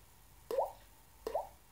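Two hollow, liquid plinks that mimic falling water drops come from a finger snapped against a cheek. They are quiet, close and clearly spaced apart, with no water present.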